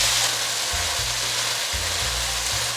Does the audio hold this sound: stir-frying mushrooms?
yes